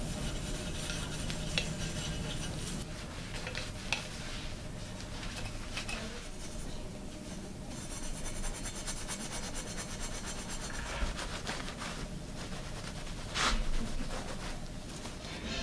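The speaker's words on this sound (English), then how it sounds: "I'm steel wooling it with a little wax on the steel wool" Steel wool loaded with a little wax scrubs the chrome on a 1959 Dunelt bicycle in a steady rasping rub, close and continuous with brief pauses and a few light knocks.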